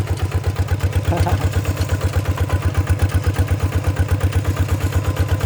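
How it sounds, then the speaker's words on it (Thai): Small single-cylinder tractor engine of the RT100 type pulling a plow in first gear on steel wheels, a loud, steady rapid thumping beat with mechanical clatter, close and continuous. "เกียร์หนึ่งเนี่ยไม่หนักเครื่องดูครับไม่มีควันไม่มีอะไรเลย"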